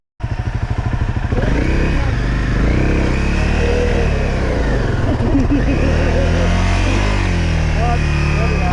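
Dirt motorcycle engine revving loudly and steadily on a rocky desert trail at Poison Spider Mesa, Moab, close by, with chugging low-gear pulses at the start and people shouting encouragement over it.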